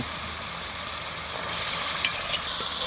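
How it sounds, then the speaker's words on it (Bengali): Potato and pointed gourd sautéing in spice paste for a hilsa curry, a steady close hiss of frying with a couple of small clicks near the end. "আলু পটল আমি মশলার মধ্যে কষিয়ে নিলাম"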